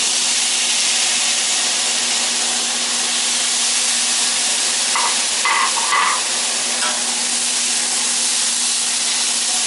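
Mushrooms fry in a hot pan with rendered fat, giving a loud, constant close-up sizzle and hiss that does not let up, with a few faint clinks partway through.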